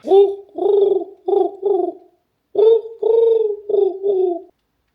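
A pigeon coos in two runs of four soft, throaty notes each, close and clear with a short pause between runs and no talking.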